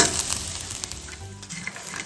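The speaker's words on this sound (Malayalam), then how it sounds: "നമുക്കൊന്ന് നന്നായിട്ട് ഡ്രൈ റോസ്റ്റ് ചെയ്തെടുക്കാം കേട്ടോ." Grated coconut dry roasting in a pan for broad bean stir fry, giving a soft continuous sizzle with light scraping of stirring, close and steady with no talk.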